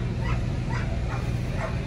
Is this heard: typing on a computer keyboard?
no